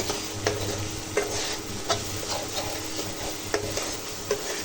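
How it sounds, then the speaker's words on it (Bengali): Spice paste (masala) with salt fries in oil for a tomato rohu fish curry, a constant sizzle punctuated by rhythmic spatula scrapes roughly every second, close and clear with no talking. "মশলাটাকে ভালো করে ভাজে নিয়ে"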